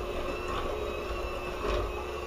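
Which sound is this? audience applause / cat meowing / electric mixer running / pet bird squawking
electric mixer running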